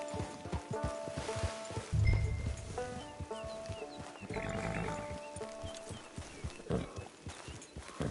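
Horse hooves clip-clop in Red Dead Redemption 2 Online, a steady walking rhythm of hoofbeats mixed with game music and ambient sound, with no talk.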